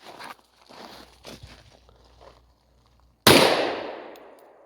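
A single sharp handgun shot cracks out during concealed carry training at an outdoor target, loud and close with a fading echo, following quiet shuffling footsteps and movement.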